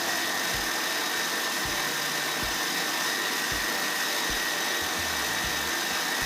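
Electric stand or hand mixer beating cupcake batter of dry ingredients and butter, a steady motor whir with periodic low thumps as the beaters knock the bowl, continuous and close.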